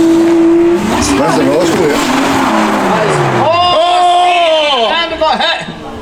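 Race car crashing during a competition after about 60 laps: a loud engine howl and tire squeal give way to a sharp impact and scraping, then revving engines of other cars sweep past, loud and close, with excited voices over it.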